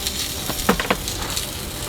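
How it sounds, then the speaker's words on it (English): Soft, steady sizzling of asparagus frying in a hot pan, with a few faint clicks and crackles near the middle. "I hear our asparagus sizzling."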